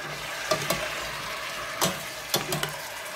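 Chicken feet adobo with chicken liver being stirred in a pan, a few short scraping clatters of the utensil against the pan over a steady soft sizzle, with no talking.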